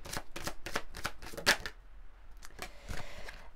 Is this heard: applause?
no